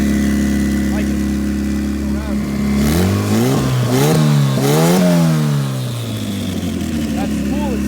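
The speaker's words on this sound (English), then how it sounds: "That spool is so instant. You can hear it spooling at idle." A turbocharged Honda engine idles and is blipped, its tone rising and falling over a steady rumble while the turbo spools up with a rising whine, loud and close.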